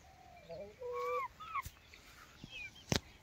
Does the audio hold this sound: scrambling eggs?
no